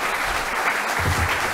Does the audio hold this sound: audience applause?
yes